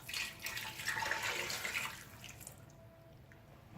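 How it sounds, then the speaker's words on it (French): Water pours into a pot over meat, salt and spices for a homemade Marrakech tanjia, a close splashing stream that tapers off after a couple of seconds with no voices. "Et je vais 300 ml d'eau."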